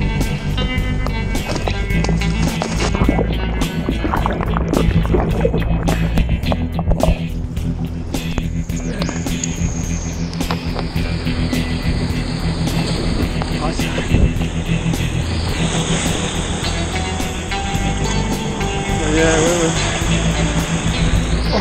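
Loud, steady engine roar and rushing water of a fast boat underway, a constant droning wash throughout with a rising whine later on.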